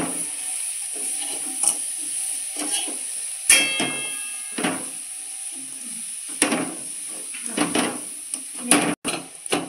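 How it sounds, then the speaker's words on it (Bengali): Close, intermittent scraping and knocking as a spoon stirs sesame with chopped sugarcane jaggery in a pot for sesame pitha, with small clicks against the vessel under a faint steady hiss. "এটাকে একটু নেড়ে চেড়ে নেবো গুড় দিয়ে"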